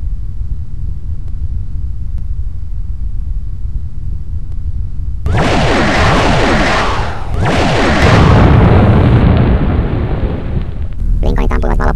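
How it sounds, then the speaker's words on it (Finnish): Sci-fi spaceship taking a hit as an energy ball blasts off one of its warp engines, a loud sudden rumbling explosion that bursts in mid-clip after a quiet low hum, crackles and roars, then ends with a sharp electronic warble. "Lincolnit ampuivat valopallolla toisen kieroutumismoottorin irti."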